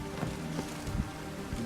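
Steady rain in the video game The Witcher 3: Wild Hunt patters softly on a surface, a continuous gentle hiss with scattered drips, no voices.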